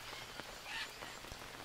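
Steady rain patters in the jungle survival game Green Hell, a soft, even hiss of drops on surfaces with a few faint ticks, continuous and fairly quiet.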